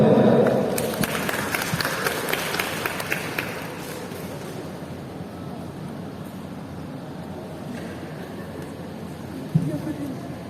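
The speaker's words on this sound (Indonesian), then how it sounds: "Tepuk tangan untuk dia" Seminar audience clapping for a participant at a national curriculum event, a short burst of applause strongest at the start that thins out over a few seconds into room noise with murmuring voices.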